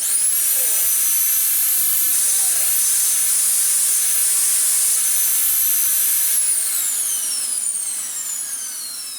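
A Dyson DC19 cylinder bagless vacuum runs without any filters, giving a loud, constant high-pitched motor whine with a hissing airflow that begins winding down near the end.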